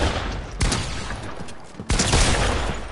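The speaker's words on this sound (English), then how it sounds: "I'm trying to kill him with a pistol" Rapid bursts of gunfire in the Fortnite video game, with a player using a pistol: two loud clusters of close shots roughly a second apart, over a dense, noisy game mix.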